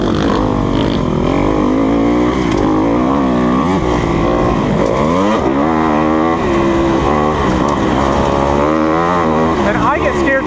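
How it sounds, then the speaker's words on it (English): Dirt bikes and side-by-sides ride a woods motocross track near a 2020 KX250F, their engines loud and continuous with layered revving and rising and falling pitch. Someone talks over the constant engine noise. "these guys are riding side by sides on the track. Same with dirt bikes."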